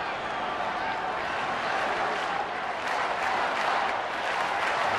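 A Pittsburgh baseball stadium crowd at a Braves game rises into a sustained roar of cheering and clapping, a broad wash of noise under a commentator's voice.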